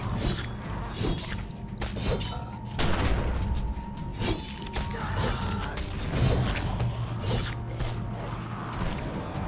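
Sword strikes and shotgun blasts in the video game The Secret World, a dense run of sharp metallic impacts and booming shots in quick irregular succession, loud and close.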